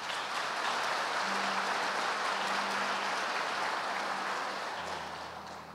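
Steady, dense applause from a church congregation during a celebration service fills the space evenly, with a faint hum underneath, tapering slightly at the end.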